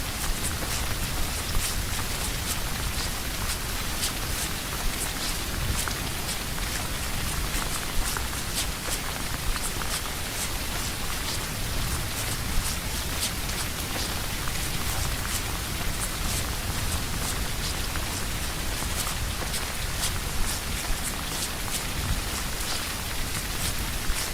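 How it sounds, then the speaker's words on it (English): Loud in-game rain in the hunting video game BULT falls as a dense, unbroken hiss that fills the whole stretch, with no talking. "I'm gonna have to get out of the rain, though, I think, because this is loud."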